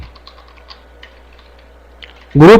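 Fingers typing text on a computer keyboard: quiet, scattered key clicks in an irregular rhythm, close and faint, before a loud voice cuts in at the end.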